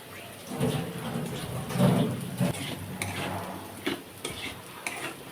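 Green chilies are stirred and fried in a pan with a soft, uneven crackle and scraping of the spatula, plus a few sharper clicks, heard close up with no voice.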